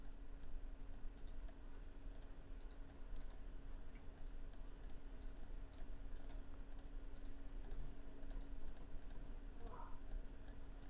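Sharp, faint computer mouse button clicks come in scattered bursts and pairs while someone works in Google Sheets, over a steady low electrical hum with no talking.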